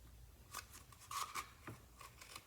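Scissors snip through a cardboard paper towel roll, cutting the top corners, with several crisp close cuts and rustles spread over a couple of seconds, fairly quiet and with no talking.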